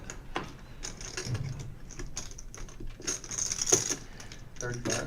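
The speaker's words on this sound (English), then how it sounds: "The chip shuffling sticks out to people who don't watch it very much." Clay poker chips clicking and rattling as they are shuffled at a poker table, a run of quick, close, crisp clacks mixed with soft talk in the background.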